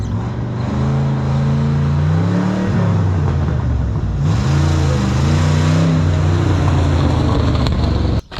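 A GMC C60 Viking ramp truck engine drones loudly nearby, rising through several revs as the truck pulls away, with its tone shifting up and down as the throttle changes.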